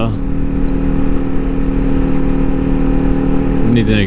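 Kawasaki Ninja 400 motorcycle engine running steadily while riding alongside a McLaren, a continuous loud drone with a brief rise near the end, with engine noise from the McLaren mixed in.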